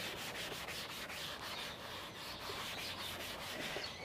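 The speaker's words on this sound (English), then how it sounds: "So let's rub some of this off to make room for our falling tree." Eraser rubbing across paper to clear part of a pencil tree drawing, a steady quiet scrubbing with quick back-and-forth strokes repeating throughout, no talk.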